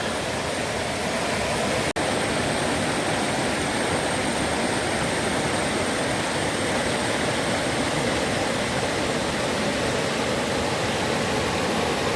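Madatharuvi waterfall at Ranni pours in a dense, unbroken roar of falling water, loud and steady from start to end, with one brief click early on.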